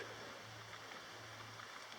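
Franconia Brook, a mountain stream along a backpacking trail, flows with a soft, steady broadband rush, faint and continuous with no voices.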